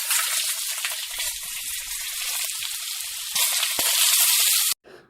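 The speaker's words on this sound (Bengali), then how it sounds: "কড়াইটা গরম হয়ে গেলে তার মধ্যে কিছুটা রিফাইন্ড অয়েল দিয়ে সেদ্ধ করে রাখা আলুটাকে সামান্য ভেজে নেব।" Boiled potato sizzling in hot refined oil in a wok, a steady broadband crackle and hiss that surges louder near the end before cutting off abruptly, with no talking.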